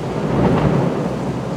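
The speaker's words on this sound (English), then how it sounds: "Thunder and lightning is still going." Thunder rumbles through a heavy tropical downpour in Bangkok, a steady loud roar of rain with a low rolling swell near the middle.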